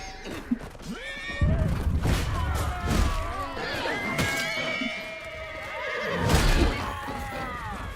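Horses whinny and snort in a Chivalry 2 medieval melee game, several long neighs rising and falling over thuds, clanks and battle noise, with a faint voice under it.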